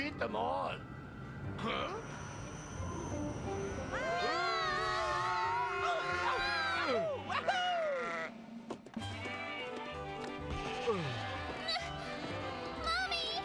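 Several sheep bleat in wavering, drawn-out cries, overlapping one another amid busy background music and some talking in an animated cartoon.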